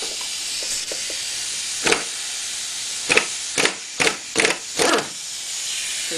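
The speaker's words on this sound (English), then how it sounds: "we're going to go ahead and get our impact set up to take those off" A pneumatic impact wrench fitted with a 17 mm socket works the nuts on a GY6 scooter engine, giving several short rattling bursts in quick succession over a steady compressed-air hiss.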